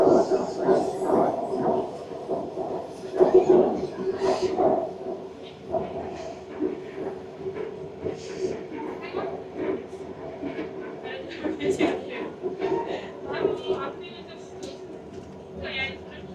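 Malaysian MRT metro train running on an elevated bridge track, a rumbling hum with rhythmic wheel clatter heard from inside the carriage, with someone talking intermittently over it.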